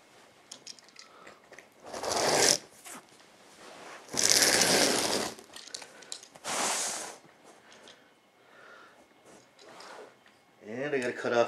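Carpet slicer cutting through carpet to trim a straight seam edge: three loud, rasping cutting strokes separated by quieter gaps, with faint voice and handling noise around them.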